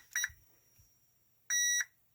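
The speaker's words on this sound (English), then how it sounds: "And it beeps. That's a good sign." An Arrma Senton 4x4 RC car's electronics power up with two short, close electronic beep tones, a brief chirp followed after a pause by a longer steady beep, in an otherwise quiet workshop with a faint click between them.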